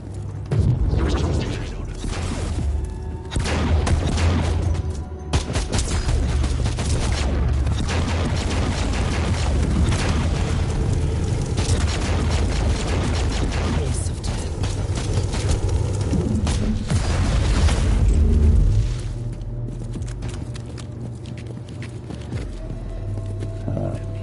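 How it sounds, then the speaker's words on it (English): Explosions and a sniper shot in the video game Warhammer 40k Inquisitor, loud booming blasts and mechanical clanks layered over dense combat noise, with a voice talking over part of it. "One-shot explosion pairs up very nice with that sniper shot."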